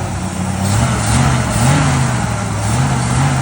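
A 1967 Chevrolet C10 engine runs close and loud with a stuck-open throttle, a steady rough rev with slight rises and falls in pitch.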